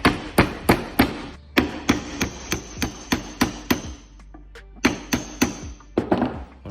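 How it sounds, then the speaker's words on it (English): Sharp, close metallic taps as a roll pin is driven into the countershaft of a Scott Bonnar Supercut model 17 mower, about fifteen strikes in steady rhythm with a couple of brief pauses, some hits ringing with a faint high tone. "Now I'm going to install the roll pin without wrecking the paint."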